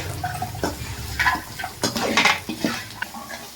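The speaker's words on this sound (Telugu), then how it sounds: "ఇప్పుడు కాస్త పసుపు కాస్త ఉప్పు వేసేసుకొని మొత్తం కలుపుకోవాలి" Turmeric and salt stirred through fried onions in a pan while making poha upma, a run of close metal spoon scrapes and clinks against the pan with light sizzling between them.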